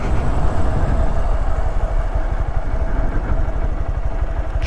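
A Honda Grom mini motorcycle runs at night on a dark street, its small engine putting out a loud, close, steady low rumble with a rapid pulsing chug.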